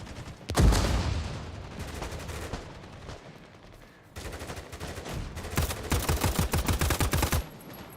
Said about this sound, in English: I'm literally just shooting at muzzle flashes through the smoke.